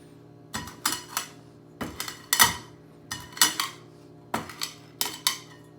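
Peppercorns for steak au poivre cracked coarsely by hand, with repeated sharp metallic crunching knocks in groups of two or three at a steady rhythm, close and clear.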